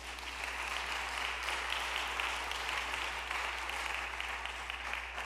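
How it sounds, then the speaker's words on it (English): Steady audience applause at a Costa Rica travel fundraiser event, a continuous wash of clapping heard from a moderate distance with no voices over it. "Give her a round of applause."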